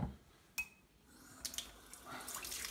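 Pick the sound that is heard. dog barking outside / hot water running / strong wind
hot water running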